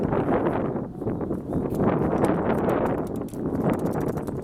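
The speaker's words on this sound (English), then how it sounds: "Hey, it's really windy now." Strong wind buffets the microphone outdoors, a constant roaring rumble with gusts rising and falling.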